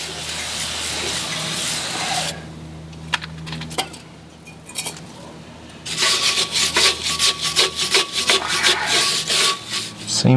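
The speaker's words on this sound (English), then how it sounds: "let's get a bit of a wire brush onto it, see if we can see any edges" A wire brush scrubs corrosion from a plate on a Detroit Diesel 4-71 flywheel, loud rasping strokes that pause briefly with a few scattered scrapes, then resume in quick rhythmic bursts.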